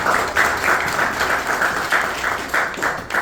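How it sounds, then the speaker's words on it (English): Audience applause at an author's book signing, a loud burst of many hands clapping with slightly pulsing rhythm that carries on steadily for several seconds. "I think we're going to hear a round of applause."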